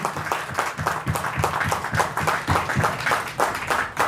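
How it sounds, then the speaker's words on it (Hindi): A seminar audience applauds enthusiastically for a company called Cloud Global Private Limited, giving a rhythmic, fairly even burst of clapping with distinct repeated beats, moderately loud and steady with no talk over it. "एक बार जोरदार तालियां दोस्तों क्लाउड के लिए।"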